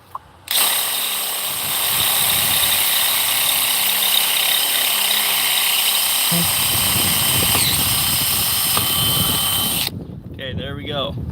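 A power drill with a dull bit runs steadily through a long stretch of drilling into a dump trailer to fit a grease fitting. The whine stays loud and close and stops near the end, where a voice speaks briefly.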